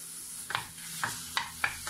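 Beef mince stuffing sizzles in a pan that still holds sausage drippings, with a low frying hiss broken by four sharp scraping stirs of a utensil, close and quiet.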